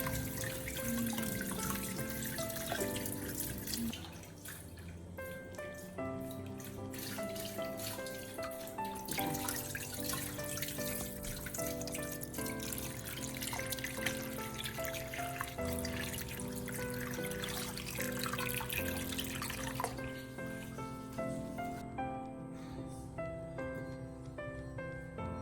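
Apricots rinsed under a running kitchen tap, with a steady stream of water splashing continuously over the fruit, close and fairly loud, with no speech and a tonal background over it.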